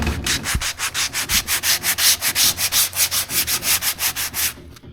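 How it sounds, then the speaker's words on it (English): Close, loud sandpaper strokes on a 1976 BMW 2002 body panel, about twenty even back-and-forth rasps in a steady rhythm that stop abruptly at the end, with no voices. "Then I'll go over this again with a finer sandpaper."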